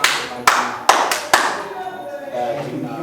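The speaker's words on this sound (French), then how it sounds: "quand on applaudit pour soi-même" Schoolchildren at a school-supplies ceremony clap together for themselves, four crisp synchronized claps in a quick pattern, then fading into a murmur of voices and room noise.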